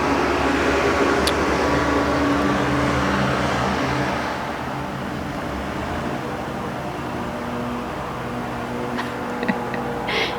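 A truck rolls past in a noisy residential neighborhood, a broad whooshing rumble that is loudest at first and then eases to a steady lower hum.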